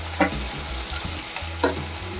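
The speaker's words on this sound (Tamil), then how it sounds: "அது சீரகம், வெந்தயம், வெங்காயம், பூண்டு, கருவேப்பிலை போட்டு இதெல்லாம் நல்லா வதக்கட்டும்" Cumin, fenugreek, onion, garlic and curry leaves sautéing in a pan for homemade pomfret fish curry: a steady close sizzle with two brief louder stirring scrapes, no talk.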